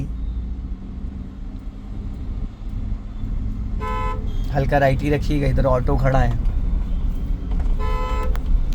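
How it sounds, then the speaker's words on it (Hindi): A car horn honks twice in short bursts over a low engine rumble in city traffic, with a person speaking calmly nearby. "आपने 2 बार हॉर्न दिया।"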